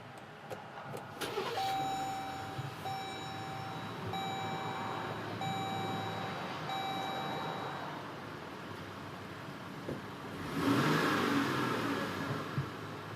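2021 Jeep Grand Cherokee 80th Anniversary 4X4 started with the push button, steady chimes pulsing for several seconds, then the engine turning over and catching into a brief rev near the end, all quiet and close.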